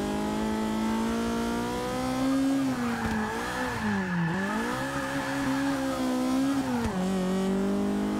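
A race car in Forza 6 cornering, its engine holding a steady high whine that dips and swoops as it shifts and then climbs again, with a faint tire scrub through the turn.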